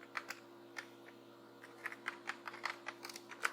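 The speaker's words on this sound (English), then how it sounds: "go to browser and type localhost" Keys tapped on a computer keyboard while typing an address into a browser, a quiet irregular run of light clicks in small bursts, close and alone with no talk.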